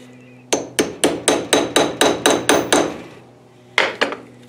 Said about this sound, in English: set it up on the vise and tap it in with the socket.